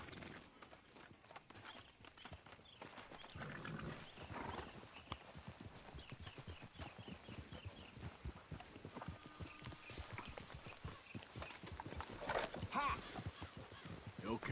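Steady clip-clop of horse hooves walking at an even pace in the video game Red Dead Redemption 2, with a faint neigh partway through and some talking in the background.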